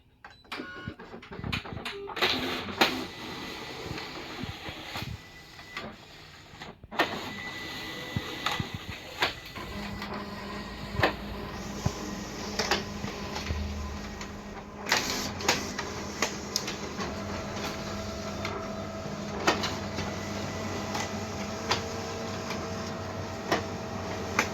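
A Canon iR 2004N A3 office copier runs a two-sided copy job, its feed rollers whirring steadily under sharp clicks and clunks of paper handling, with a brief lull early on before the mechanical hum resumes and continues to the end.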